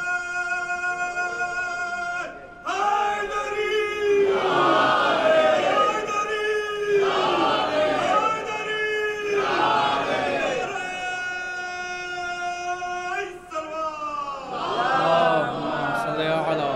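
A large religious gathering in Jhansi at a majlis recites salawat together in loud unison, their massed voices swelling in rhythmic waves across the whole stretch with a brief dip and a short pause near the start.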